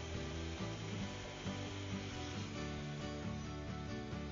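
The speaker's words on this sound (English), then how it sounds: "All this Festool technology culminates with another perfect plunge cut." A Festool TS 75 plunge-cut circular saw runs through wood, a steady, faint whirring cut with the blade tone shifting slightly as it moves through the workpiece.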